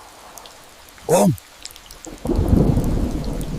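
Heavy rainforest rain pours down steadily after a sharp, loud thunderclap, with one short voiced exclamation before the downpour swells.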